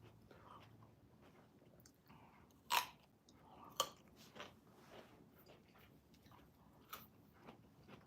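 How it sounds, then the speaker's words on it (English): Homemade gluten-free bagels being chewed close to the microphone, with soft repeated crunches and a few sharper bites standing out over quiet mouth noises. "But can you hear the crunch?"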